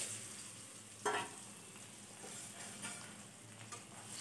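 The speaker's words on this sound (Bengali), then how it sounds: "নুন আর হলুদ দিয়ে ভালো করে ভেজে নিলাম" Potato and carrot pieces fry in mustard oil with turmeric and salt for khichuri, a soft, even sizzle with one brief clatter of stirring early on.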